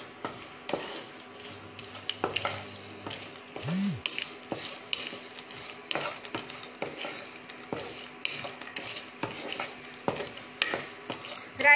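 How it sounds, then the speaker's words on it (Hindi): Raisins and poppy seeds sauté in a pan with a light sizzle under frequent scraping and clinking of a spoon stirring against the metal. "हम ये ड्राई ग्रेप्स जिसे हम राइजिन बोलते हैं उसको जो जस्ट सौते ही करना है"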